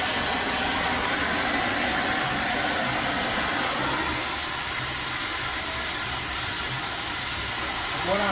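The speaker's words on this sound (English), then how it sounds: "So I get my handy dandy oxyacetylene torch." An oxyacetylene torch heating a heavy-truck driveshaft gives a steady, loud broadband roaring hiss that holds nearly unchanged from start to finish, close by and alone.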